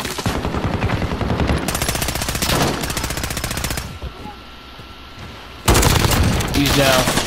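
Loud automatic gunfire in a Call of Duty Modern Warfare team deathmatch comes in long rapid bursts, pauses briefly to a quieter lull, then resumes close and heavy.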